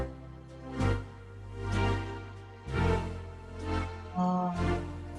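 A keyboard with an expression pedal pumped in time, so sustained chords swell and fade in loudness about once a second, close and steady with no voice.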